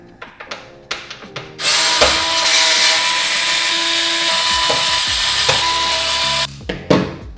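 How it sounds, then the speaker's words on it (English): Screws being backed out of a gaming PC motherboard during a case swap, a few short clicks and taps, then a loud, steady whirring of a power driver for several seconds before more brief clicks at the end. "all we have to do is unscrew it"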